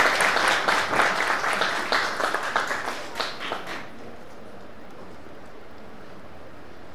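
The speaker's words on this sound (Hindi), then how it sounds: "तालियों के साथ स्वागत किया जाए।" Applause at a Hindi fortnight closing ceremony welcomes the chief guest, a poet and shayar, onto the stage: lively, dense clapping for about four seconds, then tapering off into quiet room tone.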